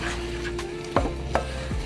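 Dry seasonings for a beef chili, including cumin and salt, get stirred with a few quick scraping strokes against a pan, close and fairly soft, with no voices.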